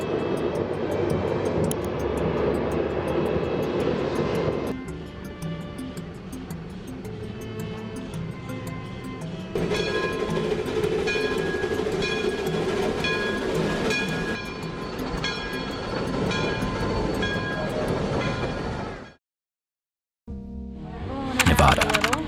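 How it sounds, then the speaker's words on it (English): The steam locomotive Nevada runs through dry open country with rumbling rail noise and sustained whistle tones, then cuts abruptly to a moment of silence before a short, loud burst returns. "Nevada enters with a whistle that carries very far."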